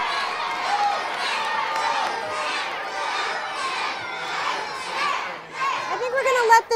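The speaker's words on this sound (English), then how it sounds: "so we need a little more cheering here" An audience at a chemistry lecture demonstration cheers and shouts loudly and steadily, a dense crowd roar of many young voices that dips briefly near the end before rising again.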